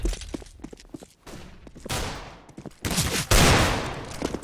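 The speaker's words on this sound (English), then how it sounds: "they get crushed, and that fire halts them big time" Rapid gunfire in a Counter-Strike match on the Inferno map during a LAN final: repeated sharp shots and bursts, some dense fusillades, with scuffling steps between them.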